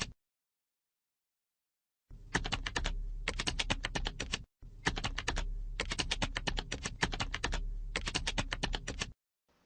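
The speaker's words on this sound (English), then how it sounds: "make your changes, and type a message to recipients." Message being typed on a computer keyboard, rapid steady keystrokes in two long close bursts separated by a brief pause, after a moment of silence.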